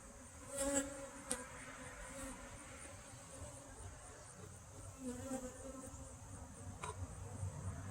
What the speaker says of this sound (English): Pretty healthy hive here